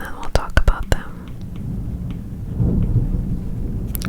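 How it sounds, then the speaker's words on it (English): Low, rolling thunder from a distant storm swells in the background, a broad rumble building toward the end beneath soft whispering and a few light clicks. "Oh my god, do you hear the thunder?"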